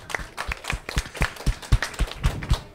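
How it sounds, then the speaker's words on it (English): A few people clap for the builders of a Chanuka house at a contest, distinct hand claps in a loose rhythmic pattern, close and moderately loud, with no talking. "Round of applause for them."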